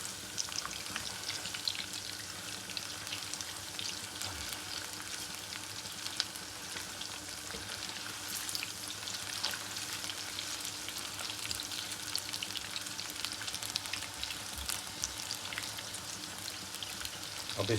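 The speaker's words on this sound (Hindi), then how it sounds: "अब इसको हिलाएंगे ताकि नीचे ना चिपक जाए।" Chicken pakora batter sizzles steadily in hot oil in a pan, a dense, continuous crackle with faint stirring scrapes and no voices, staying even in loudness throughout.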